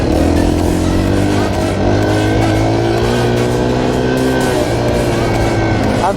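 A Yamaha 230 dirt bike engine drones loud and close while being ridden, a steady sustained hum with slight pitch shifts and rushing wind noise throughout.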